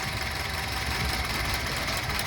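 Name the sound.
Honda CR-V engine misfiring with an ignition coil pulled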